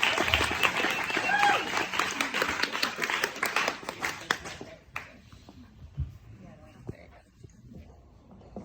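An audience claps steadily for several seconds, then the applause fades away, leaving a few scattered claps and quiet room noise.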